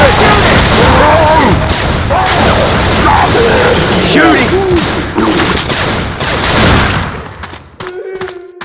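Heavy gunfire in the Left 4 Dead 2 zombie shooter: dense, continuous shooting and booming blasts fill most of the stretch, with voices shouting over the chaos before it cuts away near the end.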